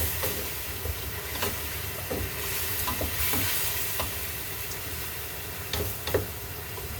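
Chicken is stirred in a sizzling pan, a steady close frying hiss with periodic scrapes and knocks of a spatula mixing the food.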